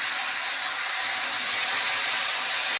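Water poured into a hot pan of spiced fish curry with vegetables sets off a loud, steady sizzling hiss that holds evenly for nearly three seconds, then cuts off abruptly.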